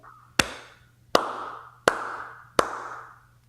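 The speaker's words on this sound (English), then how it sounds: "You got the slow clap." A slow clap: four loud, deliberate hand claps spaced evenly about three quarters of a second apart, each ringing out in a reverberant room.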